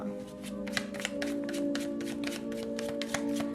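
Tarot cards being shuffled by hand in a rapid, steady run of soft riffling flicks, close and continuous over a faint hum.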